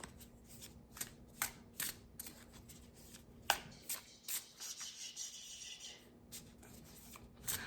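Tarot cards are shuffled close up in a series of quick riffles and soft rubbing flicks, with one sharper snap partway through and a faint steady hum underneath.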